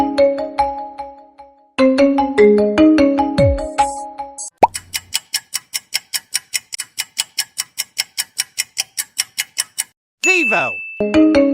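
A Vivo smartphone ringtone sounds clearly with no voices: a bouncy melody of plucked and bubbly notes with a dropping plop, then a steady, rapid ticking pulse, closed by a descending shimmering chime.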